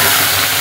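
Ground cumin and ginger masala hits hot oil in a heated kadhai while a shev bhaji curry is cooked, giving a loud, steady, broad sizzling hiss that runs unbroken through the short moment with no voices.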